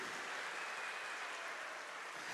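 Church congregation applauding during a Catholic service, a steady broadband wash of clapping held at an even, fairly loud level for a couple of seconds with no voices over it.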